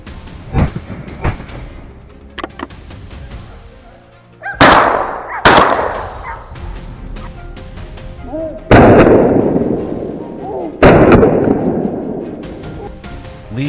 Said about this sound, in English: Leon quietly raised his rifle, tracking every step it took and squeezed the trigger